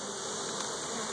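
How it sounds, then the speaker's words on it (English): A steady, faint buzz of bees patrolling a hive channel around a Beetle Buster trap hums on without a break, close to the listener and with no voices. "you can see the bees down in there, down in that channel, patrolling the area and all that kind of stuff"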